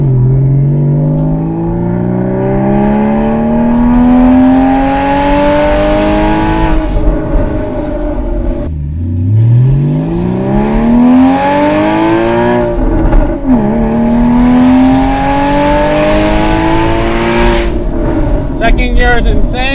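Car engine with an FVD Stage 2 tune and headers accelerating hard: loud, close in-cabin engine roar rising through several long pulls with quick shift drops between them, while a voice talks over it.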